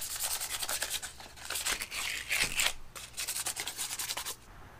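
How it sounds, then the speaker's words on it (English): Something is hand sanded with 100 grit sandpaper in quick, close, rhythmic rubbing strokes with a rough scratchy texture, steady for a few seconds with a short pause partway through. "I'm going to sand these just a little bit to rough them up. This is 100 grit."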